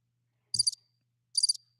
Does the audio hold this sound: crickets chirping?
yes